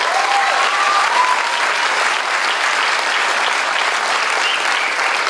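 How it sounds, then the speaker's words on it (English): Dense, steady applause from an audience at a senior honors night fills the room loudly and evenly for several seconds, with a brief whistle near the start. "please, big round of applause for him."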